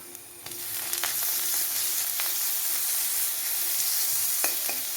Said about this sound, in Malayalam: ഇഞ്ചി വെളുത്തുള്ളി ചതച്ചത് ഇത് ചതച്ചെടുത്തപ്പോൾ ഒരു സ്പൂണുണ്ട് ഇത് ഇട്ട് കൊടുക്കാം